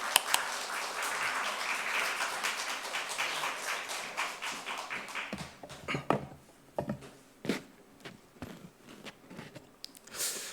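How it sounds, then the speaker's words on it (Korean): Audience clapping fills a church during a prayer meeting, dense and steady at first, then thinning into scattered individual claps before fading out. "박수로 맞이하도록 하겠습니다"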